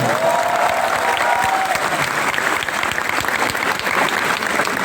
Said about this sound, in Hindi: मैं चाहता हूँ ऐसे दोस्तों के लिए एक बार जोरदार तालियां बजाएं।